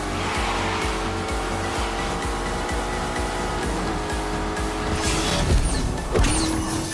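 Lamborghini Urus turbocharged SUV in a racing video game, engine roaring continuously with tyres squealing and skidding, loud and steady with a sharper screech near the end.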